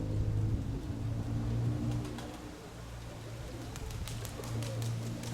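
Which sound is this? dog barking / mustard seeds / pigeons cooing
pigeons cooing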